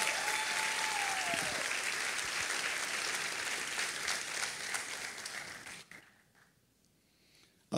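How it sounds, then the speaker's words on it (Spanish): Loud applause from a church congregation fills the room, with a brief whistle-like tone early on. It fades out at about six seconds and leaves near silence. "Dale ese aplauso fuerte, Jesús."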